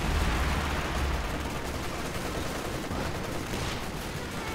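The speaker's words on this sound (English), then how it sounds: "the MG34 will just continue to stay in the area and suppress, using suppressive fire" MG34 machine gun suppressive fire in the Company of Heroes 2 real-time strategy game, a dense continuous clatter of gunfire with low battle rumble, loud and sustained throughout.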